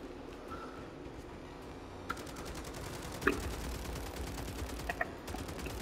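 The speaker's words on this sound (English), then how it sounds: "The sentry gun." A sentry gun in Call of Duty Modern Warfare Zombies fires a rapid automatic stream of shots with a few louder cracks. It is fairly faint and distant, and no one talks over it.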